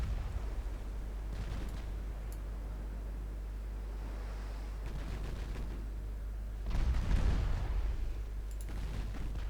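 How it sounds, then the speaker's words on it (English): In the naval warfare game Ultimate Admiral Dreadnoughts, torpedoes explode against a ship that then sinks. Distant crackling bursts rise over a constant low engine rumble, with one louder, heavier booming blast late on. "There they go. They blew up. And the ship sank."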